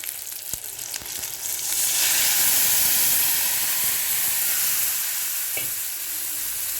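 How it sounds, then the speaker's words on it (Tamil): Tamarind water poured into chillies frying in a pan for chilli thokku bursts into a loud, steady sizzle and hiss that swells after two seconds and stays strong, with occasional stirring clinks. "நல்லா வதங்கி வர சமயத்தில் நம்ம இந்த புளி கரைசலை ஊற்றிக்கலாம்."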